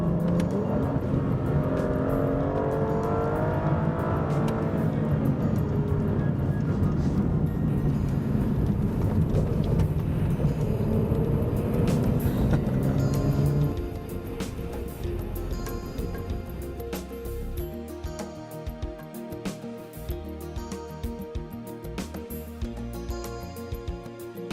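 A 2013 Aston Martin DB9 with a V12 engine drives at speed, a dense, rumbling engine roar heard from inside or nearby that drops partway through to a lighter, steadier hum of cruising.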